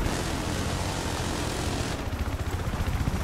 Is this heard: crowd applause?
no